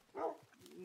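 A single short, soft bark from a Minecraft wolf sounds once near the start, followed by quiet, low game background noise.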